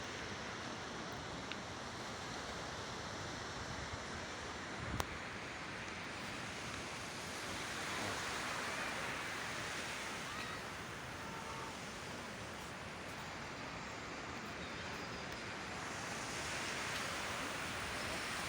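Sea waves wash steadily onto an Italian shore, a broad, continuous surf roar with gentle swells and some wind, heard alone without voices.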